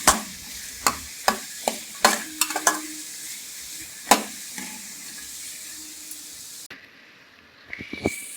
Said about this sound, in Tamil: ஒரு 3 பச்சை மிளகா, ஒரு பெரிய சைஸ் தக்காளி, இது எல்லாத்தையுமே போட்டு கொஞ்சம் நல்லா வதக்கிக்கிறோம்